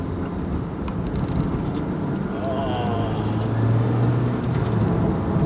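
A Lotus Elise 220 Cup engine drones steadily under way on a damp road, with a rising tonal note toward the end. Someone talks over the continuous cabin and road noise.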